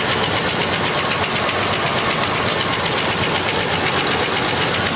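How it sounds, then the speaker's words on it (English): A 1984 Mercury Capri that sat unused for a long time idles with a lifter tick, a steady rapid ticking riding over a loud, continuous engine rumble up close. "But it's got that tick."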